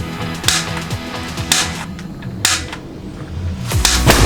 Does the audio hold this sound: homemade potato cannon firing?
yes